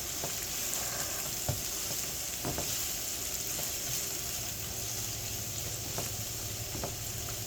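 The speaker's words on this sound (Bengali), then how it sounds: "লাল লাল করে ভেজে নিব।" Tilapia fish fries with green chilies in hot oil in a pan, a steady close sizzle throughout with a few faint clinks of a utensil against the pan.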